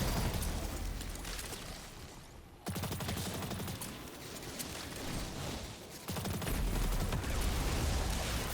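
Solar grenade blasts in Destiny's Spire of the Watcher dungeon, a few heavy detonations with crackling gunfire and rumbling bursts.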